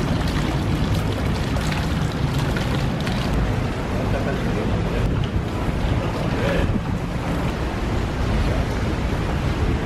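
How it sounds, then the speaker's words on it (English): Strong wind buffeting outdoors in Thailand, a loud continuous roar of gusts battering the microphone with no letup, close and harsh, drowning out any background. "So it's nice sitting outside in the wind."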